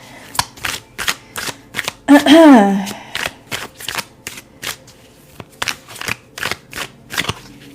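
Tarot cards shuffled in a quick run of crisp riffles and taps, close up, with a short burst of voice partway through.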